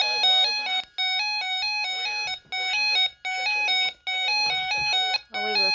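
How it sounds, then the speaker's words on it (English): A Radioshack 12-522 weather radio sounds its alarm test: a loud, piercing electronic tone repeating in short bursts with brief gaps, nearby and alone. "And we can test our alarm."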